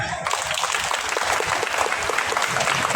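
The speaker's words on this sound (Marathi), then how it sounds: "तुम्हाला कळाला असेल तर जोरदार टाळ्या" A crowd at a Marathi stand-up comedy show during a Ganeshotsav celebration in Panvel breaks into dense, steady applause that runs loud and continuous for the whole stretch, with no talk over it.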